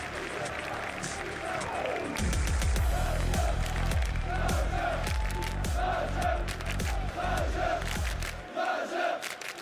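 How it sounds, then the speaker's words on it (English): A large esports arena crowd at a Counter-Strike CS2 Major playoff match in Copenhagen roars and cheers for the Turkish side, a loud sustained wall of cheering with rhythmic chanting and clapping, ending abruptly. "there's one hell of a supporting crowd for the Turkish side right here"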